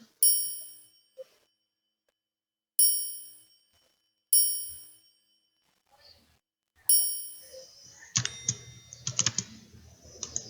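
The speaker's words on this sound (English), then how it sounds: "This is the triangle." A triangle sample in an FL Studio beat strikes four bright, ringing hits with long shimmering decays, spaced apart, before a busier burst of clicky percussion near the end.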